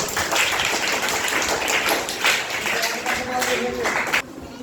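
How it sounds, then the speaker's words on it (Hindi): Classroom applause during a Hindi-language arithmetic lesson, a steady dense patter of many hands clapping at once for a few seconds before cutting off, with a voice faintly mixed in. "चलिए ताली बजाइए।"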